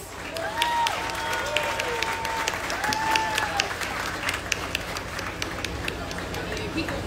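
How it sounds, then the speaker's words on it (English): Audience applause with scattered whistles and cheers at a Michelin Guide Florida 2022 awards ceremony, a dense, steady clapping crowd that holds throughout at moderate loudness. "Give them a round of applause."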